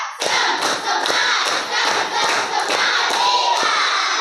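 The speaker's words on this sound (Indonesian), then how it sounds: "Tepuk semangat 1. Semangat 2. Semangat 3." A class claps together in a rhythmic spirit clap, sharp collective hand claps landing in a regular beat of about two per second, loud and close, with voices chanting along.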